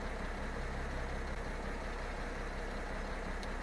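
A tractor's engine idles in a farming video game, a steady, even mechanical drone with a low rumble that holds constant throughout and has nothing else over it.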